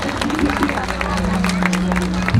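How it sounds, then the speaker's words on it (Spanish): A crowd at a nighttime callejoneada street party claps steadily, a dense patter of hands under babbling voices and a low steady hum, continuing without a break. "Un fuerte aplauso para él, un gran amigo de la callejoneada."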